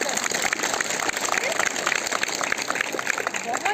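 A room full of schoolchildren at EMRS Gurukulam in Mhow, Indore claps for themselves in dense, lively applause, rapid overlapping hand claps that stay steady and close, with some voices mixed in.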